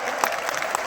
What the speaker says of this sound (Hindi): मैं चाहूंगा एक बार जोरदार तालियां उनके लिए